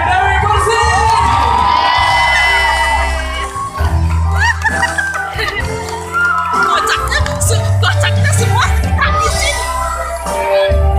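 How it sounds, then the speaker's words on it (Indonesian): An audience at a televised cast event claps and cheers loudly, with shouts, whoops and children's voices rising and falling over music for the whole stretch. "Semua tepuk tangan untuk Saskia Gotika Dewi Persik."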